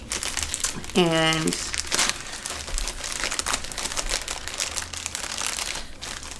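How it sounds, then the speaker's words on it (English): A mail package being cut open with its plastic packaging crinkling, a continuous rustle running through the moment, with a brief spoken word near the start. "Just cutting this package open."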